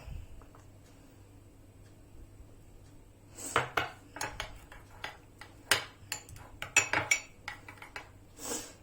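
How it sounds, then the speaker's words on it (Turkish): Clay face mask paste, mixed from clay and a few spoonfuls of water, is stirred in a bowl with a spoon, giving quick irregular clinks and scrapes of spoon on bowl after a quiet start. "Evet arkadaşlar iyice karıştırıp krem kıvamına getirdik."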